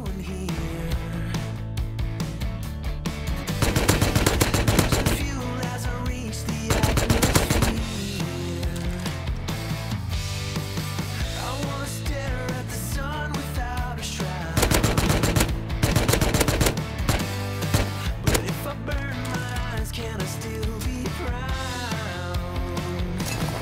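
Rapid automatic gunfire from Tommy gun and AK rifles in the survival game Rust, with long sustained bursts and sharp repeated shots, some louder volleys, no talking.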